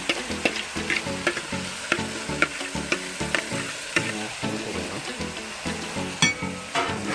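Food fries in a pot at an outdoor cookout, giving a continuous close sizzle broken by rhythmic scraping and clanking as it is stirred.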